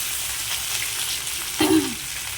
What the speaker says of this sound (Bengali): একটুখানি জিরে ফোড়ন আগে, তারপর দেবো তেজপাতা, দিয়ে দিলাম শুকনো লঙ্কা